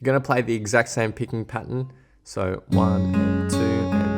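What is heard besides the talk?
No everyday noises stand out.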